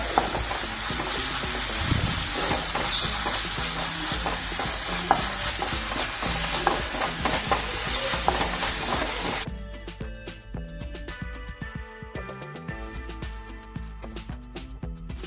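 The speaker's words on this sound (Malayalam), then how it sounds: "ഇനി നമുക്ക് ഇഞ്ചി വെളുത്തുള്ളി ചതച്ചത് ചേർത്തെടുക്കാം. ഇനി നന്നായിട്ട് അതിന്റെ പച്ചക്കുത്ത് മാറുന്ന വരെ ഒന്ന് മൂപ്പിച്ചെടുക്കാം" Crushed ginger and garlic sauté with browned onions in a pan, giving a loud, steady sizzle with frequent stirring scrapes. The sizzle drops away abruptly about two-thirds of the way through, leaving quieter clinks and faint stirring.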